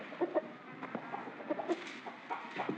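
A rooster in a 1964 Mexican film about cockfighting gives soft, close clucks in short irregular bursts, a few sharper notes in between, against a quiet background.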